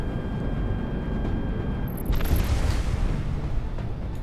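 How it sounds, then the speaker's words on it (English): A deep, rumbling explosion in the Project Wingman flight game rolls in partway through over steady jet engine noise, with brief high electronic cockpit tones above it. "Explosion this close?"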